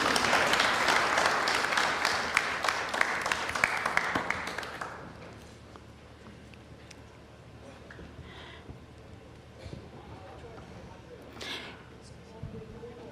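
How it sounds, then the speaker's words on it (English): Loud applause from a crowd fills the first few seconds, then fades out into quiet room noise with a few faint scattered sounds. "Let's give him a round of applause, please."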